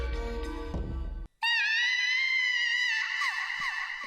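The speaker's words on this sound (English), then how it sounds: "who could have screamed in the darkened hallways of the blood-stained hospital" A high, sustained harmonic scream in the Sweet Fuse visual novel video game, set in a darkened, blood-stained hospital hallway, rings out loudly after a burst of tonal game music and a brief silence, holding for over two seconds.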